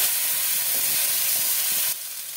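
Ginger-garlic paste with ground coriander, cumin and turmeric sizzles in a pan with a splash of water, a steady close hiss that drops abruptly to a quieter level near the end.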